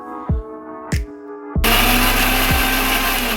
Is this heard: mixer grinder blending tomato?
yes